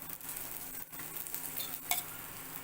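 Flatbread flipped on a griddle, a low steady sizzle with a couple of light scraping taps as it is turned, quiet and close with no voices.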